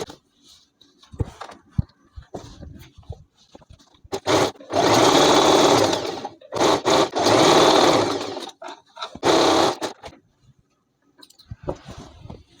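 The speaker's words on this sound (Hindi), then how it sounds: "अब इसी साइड से हम यहाँ से दूसरे वाले क्रॉच पे सिलाई लगाना स्टार्ट कर देते हैं।" Sewing machine stitching the crotch seam of a petticoat being turned into a palazzo, running in three close, loud whirring bursts of a few seconds each, separated by short pauses with faint clicks and handling sounds.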